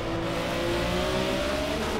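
A BMW M1 Procar race car in the Project CARS racing game at the Oschersleben circuit, its engine revving loud and steady with a rising whine, close and continuous with no talk over it.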